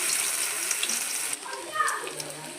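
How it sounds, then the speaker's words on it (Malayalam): Rolls drop one by one into hot oil and fry with a steady, close, hissing sizzle that softens slightly partway through, with no voices. "എണ്ണ ചൂടാവാൻ വെച്ചിട്ടുണ്ട്. അതിലേക്ക് ഓരോന്നായിട്ട് ഇട്ട് കൊടുക്കാം കേട്ടോ."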